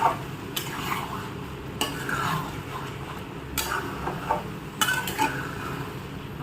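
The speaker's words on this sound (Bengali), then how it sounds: "হাই ফ্লেমে দিয়ে আমরা কন্টিনিউয়াসলি এটাকে নাড়তে থাকবো" Carrot halwa stirred continuously in a pan over a high flame, a spoon scraping and clinking against the metal in repeated strokes over a steady low sizzle.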